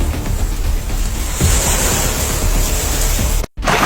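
Ocean surf washes steadily along a seashore in a continuous broadband roar with wind buffeting the microphone, and a brief dropout cuts the sound near the end.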